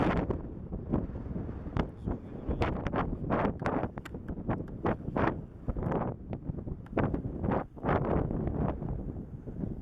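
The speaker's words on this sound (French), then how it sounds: "Ah, là, il y a de la rafale, mon copain." Strong, irregular gusts of wind batter the microphone on a mountainside, surging and dropping in loud rushing bursts across the whole clip with no voices.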